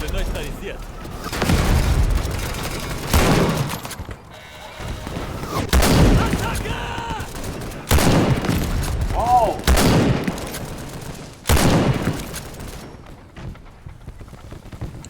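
Gunfire and shelling in the World War I video game Over The Top: repeated heavy booms and crackling shots arrive every couple of seconds, some close and loud, under intermittent talk.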